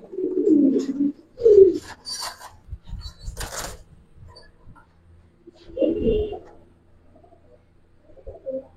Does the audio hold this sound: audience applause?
no